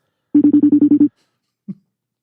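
A FaceTime video call rings on a phone: a quick run of seven short, evenly spaced electronic tones, then a single soft blip after a brief pause, close and clear with no talking.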